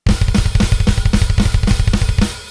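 Metal double bass drumming in a triplet pattern at a slightly quicker tempo, with dense rolling kicks under regular snare hits played as eighth notes on the hands, loud and close, no talking.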